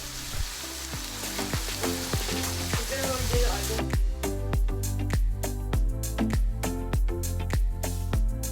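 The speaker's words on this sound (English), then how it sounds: "That way that burger can continue to caramelize in this iron skillet." Ground beef sizzles and fries in an iron skillet with a steady, close crackle, while the cook stirs and scrapes it in a regular rhythm. No one speaks.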